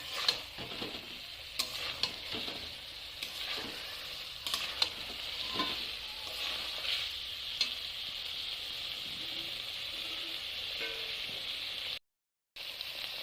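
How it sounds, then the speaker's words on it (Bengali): Okra coated in spice masala sizzles steadily in a hot pan while a spoon scrapes and stirs through it in irregular clinks and scuffs, close and continuous with no talk. "মশলাটা আমি ভেন্ডির গায়ের সাথে ভালোভাবে মিশিয়ে নেব।"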